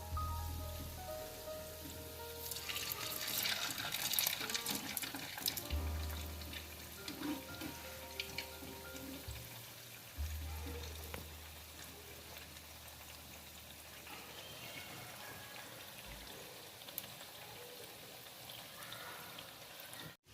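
Urad dal vada deep-frying in oil, a soft continuous rain-like crackle and fizz of bubbling oil, fairly faint and steady throughout, with no talking.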